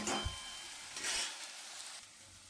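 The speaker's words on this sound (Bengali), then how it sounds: "দেখুন আমি কিন্তু ব্যাসের ফ্লেমটা হাই রেখেছি ভালো করে আমি নাড়াচাড়া করে নেবো" Onions frying over a high flame in a pan, a loud close sizzle broken by bursts of stirring and scraping that rise and ease off, with no talking.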